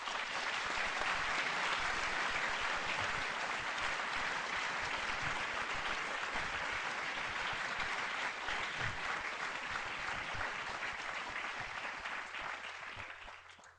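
An LSE lecture audience applauds to welcome the speaker, a dense and steady clapping sustained for over ten seconds before tapering off at the end.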